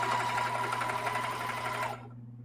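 A sewing machine stitches denim quilt pieces together in a close, steady mechanical whir with a droning hum, running continuously before stopping abruptly near the end.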